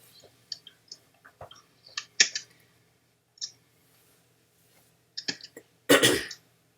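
Computer mouse clicking while editing pages on a WordPress.com site: a scattered, irregular run of sharp, close clicks in quiet, some in quick pairs, followed by a brief louder throat-clearing burst near the end.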